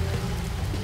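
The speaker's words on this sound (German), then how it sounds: "Wasserfall." A waterfall in Spyro the Dragon on PlayStation 5, a dense, steady rushing wash of falling water that fills the whole moment without pause.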